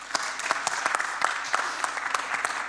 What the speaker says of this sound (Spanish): Un aplauso para Seba también